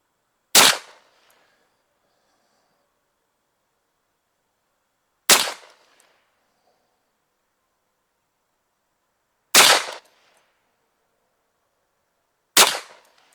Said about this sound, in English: Let's fire another 5-shot group at that top left target.